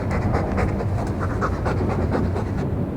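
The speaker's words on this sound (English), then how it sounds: "All that noisy dog breath, day in, day out." The dog companion in the video game Dragon Age 2 pants close up, with quick, even, rhythmic huffs of breath that run on without pause.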